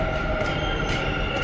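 A metro train runs along steadily, a loud continuous rumble and rattle of wheels with faint high squeal bursts, heard from on board with no talk.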